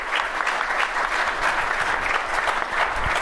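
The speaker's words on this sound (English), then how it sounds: "So can you give these guys a round of applause, yeah?" A conference audience at a Melbourne VMUG UserCon claps in a dense, even round of applause that holds steady throughout, filling the hall without any single voice standing out.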